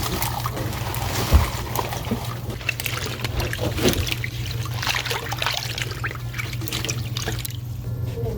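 Vegetables being dumped out of a salted vinegar rinse water, a sustained rush and trickle of draining water with a few splashy bumps, close and fairly loud.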